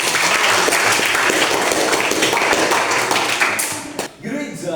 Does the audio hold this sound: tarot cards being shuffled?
no